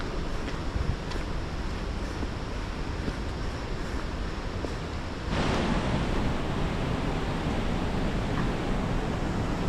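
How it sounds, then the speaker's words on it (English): Water rushes loudly through a narrow gully below a walking path in Glen Nevis, Scotland, near Steall Waterfall, a dense steady roar that swells a little partway through, with no talk. "You can hear the water down to my left."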